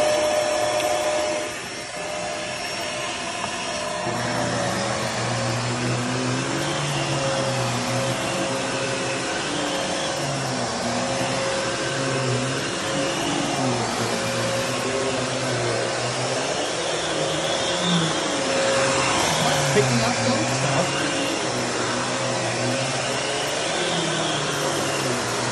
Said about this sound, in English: figured I would show the machine running at least